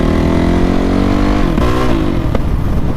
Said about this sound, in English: that popping is the exhaust gasket since there isn't one